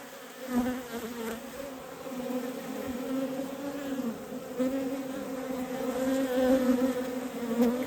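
Honeybees buzz around an open hive with the centre brood frame lifted out, a dense, steady droning hum that swells and eases slightly, close by, with no talking.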